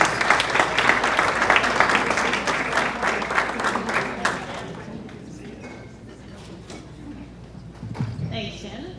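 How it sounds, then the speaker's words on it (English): An audience at a school-district education awards celebration applauds, dense clapping that fades out over about five seconds, followed by quieter room noise and a few stray sounds. "Big round of applause."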